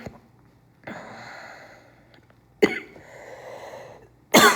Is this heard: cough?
yes